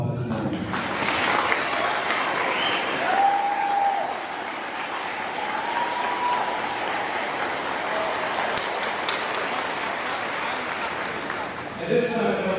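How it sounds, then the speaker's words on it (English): Audience applause for eighth graders at a school moving-up ceremony, a broad, steady wash of clapping sustained for about twelve seconds before tapering off near the end. "I'd ask you to please join me in giving our eighth graders the first of many round of applause this morning."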